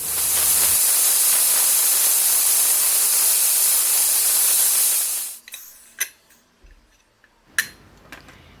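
Pressure cooker cooking mutton kulambu releases steam as a loud, steady hiss for about five seconds, then cuts off and leaves a few sharp clicks and ticks in near quiet.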